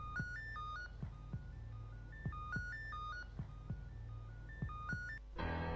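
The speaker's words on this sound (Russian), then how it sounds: "А вот и он звонит." An incoming phone call rings as a repeating electronic melodic ringtone, a bright stepped tone pattern that cycles about three times at steady volume, then cuts off abruptly into a burst of noise.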